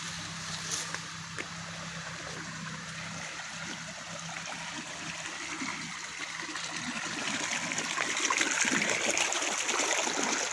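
Water from a DI motor pump gushes steadily down a lined channel into a crop field, a continuous broadband rush with no pauses that grows slightly louder toward the end.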